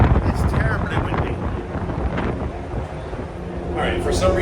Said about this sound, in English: Boy, is it windy. It's terribly windy.